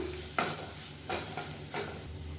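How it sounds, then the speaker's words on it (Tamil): Spices and chili powder sautéed in oil for a garlic chutney, giving a steady close sizzle with a few louder stirring scrapes in the pan, no voices. "இந்த எண்ணெயில் லேசாக வதக்கிக்கலாம்"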